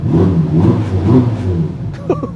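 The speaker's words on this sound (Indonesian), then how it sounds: "Jadi kayak mesin NA, cuman suaranya aja yang agak teredam sedikit." A 2021 Ferrari Roma's turbocharged engine revs with a deep, slightly muffled rumble that rises and falls steadily, close and loud, before a brief higher whine near the end.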